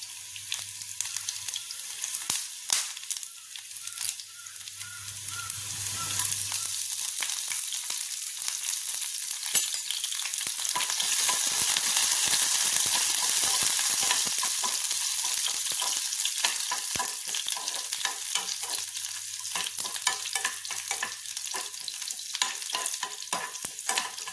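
Garlic and curry leaves fry steadily in a pan for a mango pickle dish, with a continuous close sizzle and crackle. Occasional stirring scrapes cut in, and faint low hums rise and fall beneath.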